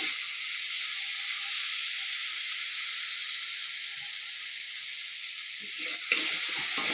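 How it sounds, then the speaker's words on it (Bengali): Masala spice paste, hand-ground on a grinding stone, fries in a pan with a steady, soft sizzle and hiss that continues evenly throughout, with a faint stir near the end. "দেখো মশলাটা মোটামুটি ভাজা হয়ে এসছে"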